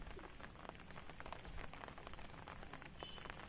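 Heavy rain falling outdoors, a dense, constant patter hissing evenly across the whole stretch without pause, with no voices.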